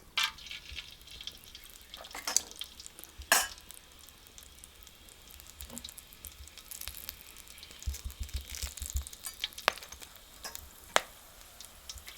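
Soft sizzling and crackling of cloves, star anise and cinnamon frying in hot oil for tempering, with scattered sharp pops and clicks, fairly quiet and close, no talking.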